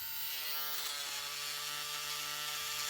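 An electric fabric shaver buzzes steadily up close as it shaves lint off sweatpants, a constant high whirring drone with slight rasping changes as the blades pass over the fabric.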